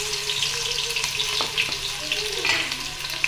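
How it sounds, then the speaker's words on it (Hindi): Onions sizzle in hot oil with cumin seeds, a steady dense frying crackle close up, with a few scrapes of stirring and no voices. "प्याज ऐड करेंगे"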